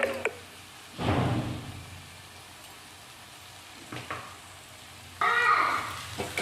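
Spices with salt and turmeric being sautéed in a pan, a low sizzle with a couple of louder bursts of frying and scraping, separated by a quieter stretch of faint hiss.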